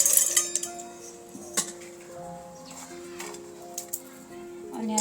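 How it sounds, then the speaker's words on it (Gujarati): Roasted peanuts dropped into a metal mixer jar give scattered light clinks and rattles, close by and fairly soft, over a background of steady tones and possible voice. "મેં આ મિક્સર જાર લીધું છે ને તેમાં આપણે આ સિંગદાણા ઉમેરી દઈશું"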